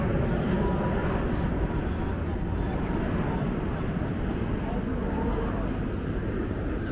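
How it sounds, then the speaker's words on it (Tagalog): A fixed-wing airplane drones overhead while walking around Windsor, a steady broad roar that stays loud throughout, with voices faintly mixed in. "Pakinggan nyo na lang yung ano ng eroplano."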